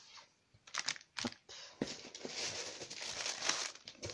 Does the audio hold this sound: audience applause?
no